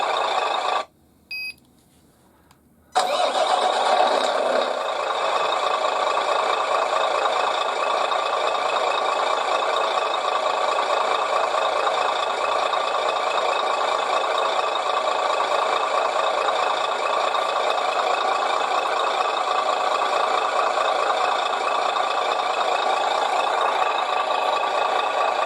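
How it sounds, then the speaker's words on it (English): A Carson truck sound unit plays a continuous engine-running loop, a steady droning hum with a faint knock, after a short quiet gap at the start; it holds unchanged without any shutdown. "It seems to be a constant engine running sound."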